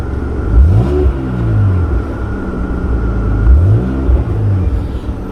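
A car engine idles, then revs twice in two rising sweeps, the second a few seconds after the first, and settles back to a steady rumble close by with no talk.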